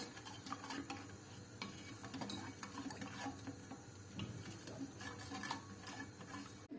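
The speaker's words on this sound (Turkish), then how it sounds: "Ocağımızın altını açtık ve kaynayana kadar karıştırıyoruz" A panna cotta mixture is stirred in a pot on the stove until it boils, producing faint, irregular scraping strokes and light ticks of a utensil against the pot.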